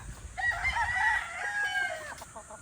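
A gamecock rooster crows once nearby, a long rising and falling call that lasts about two seconds over a low background rumble, with no speech.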